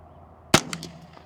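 A single sharp crack from a semi-auto Ruger 10/22 rifle firing SK ammunition, close and loud, with a short echoing tail.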